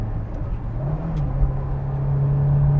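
A Honda roadster's VTEC engine revs up, a steady rising drone with a mechanical whir that builds in intensity over a few seconds, close and prominent with no talking.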